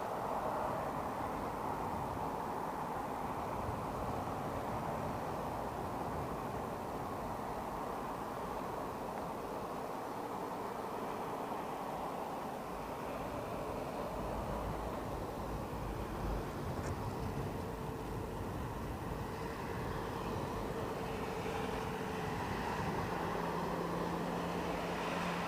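Emirates Boeing 777 airliner at London Heathrow Airport, a steady broadband jet roar that holds continuously and fairly loud throughout, with no talk over it.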